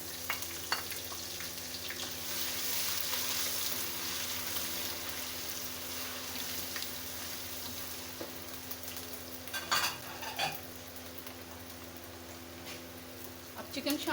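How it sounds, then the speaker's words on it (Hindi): Spices, garlic and ginger sizzling in hot oil for a chicken korma, a steady close hiss with occasional stirring clinks of utensil against pan. "ज़रा सा इनको गरम ऑयल में फ्राई करूँगी। अब लहसुन अदरक डालूँगी।"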